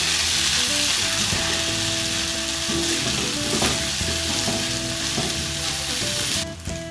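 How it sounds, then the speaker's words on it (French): Instant noodles are stirred and fried in a pan, a loud steady sizzle with scraping and tossing throughout that drops off abruptly at the very end, no voices. "On mélange bien les nouilles."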